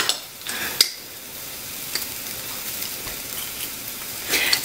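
Garlic cloves go into a chicken and sausage gumbo pot and fry with a soft sizzle, with a few utensil scrapes and clinks and a brief rise in hiss near the end.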